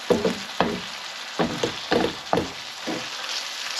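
Sausage pieces fry with seasonings in a hot pan, a steady sizzling hiss broken by regular scraping strokes as the pieces are stirred, close and clear.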